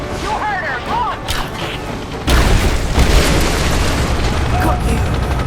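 In Rise of the Tomb Raider on PS5, a fireball blast erupts near a helicopter, a sudden heavy boom that turns into a long, loud, roaring wash of crackling debris after a moment of voices and engine whine.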